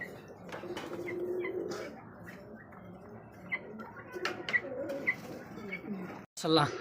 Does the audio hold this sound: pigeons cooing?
yes